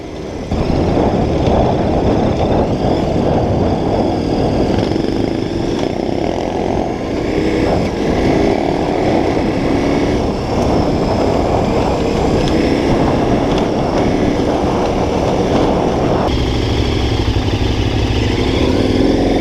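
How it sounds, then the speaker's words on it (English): Dirt bikes, among them a big KTM 1090 Adventure R, roar steadily along a straight dirt trail with engines revving hard as the wheels spin, a loud continuous drone close by with no talk. "Bikes up front on a straight trail, nothing to do but wheel spin the wheel and create a dust cloud."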